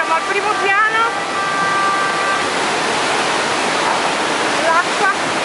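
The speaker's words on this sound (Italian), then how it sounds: "L'acqua entra dentro." Floodwater rushes into a first-floor building in a steady, loud roar like a waterfall, continuous throughout. Distressed voices cut through the torrent in short bursts.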